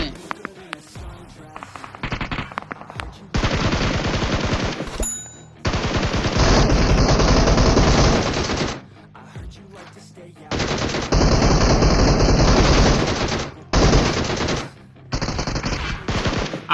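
Automatic gunfire from a Free Fire mobile battle game, loud sustained bursts of several seconds each, broken by short pauses and sporadic single shots.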